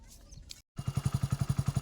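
A motorcycle engine catches after a brief pause and settles into a steady, rhythmic idle of evenly spaced thumps, close by and fairly loud over a short stretch.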